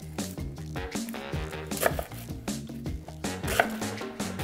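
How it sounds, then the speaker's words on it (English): A knife slices through red onion on a cutting board, its repeated cuts sounding under steady background music while tequila-braised short rib tacos are prepared. "I've also got a little bit of red onion that I'm gonna go ahead and slice down as well."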